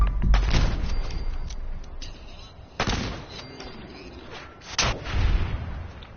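Overpowered gun firing in Fallout 4, several loud booming shots with sharp onsets spaced irregularly over game ambience, the heaviest blasts near the start, middle and end.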